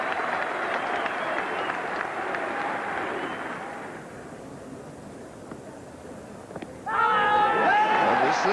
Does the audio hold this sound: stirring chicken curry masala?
no